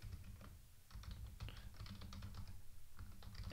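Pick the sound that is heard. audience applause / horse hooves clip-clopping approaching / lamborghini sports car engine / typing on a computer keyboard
typing on a computer keyboard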